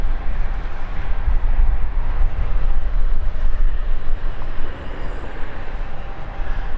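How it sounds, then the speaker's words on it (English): A KLM jet airliner on the Amsterdam flight at London City Airport gives off a loud, steady broadband roar and rumble that holds for the whole stretch, dipping only slightly near the end. "This is our Amsterdam flight of 993. Gotta love the Blue Jets. Blue Jets of KLM."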